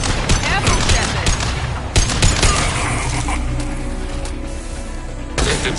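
Dense, continuous gunfire in the sci-fi shooter game Mass Effect 2: rapid overlapping bursts and sharp shots crack back and forth in a loud firefight, with a brief lull before another volley near the end.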